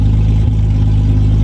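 A Chevrolet Omega with its stock naturally aspirated 3.0 engine runs close by, a loud, deep, steady idle with a strong low rumble and a slight bump partway through.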